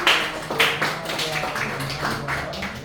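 A church congregation applauds after a prayer for three new young members, a dense, steady patter of many hands clapping at moderate loudness.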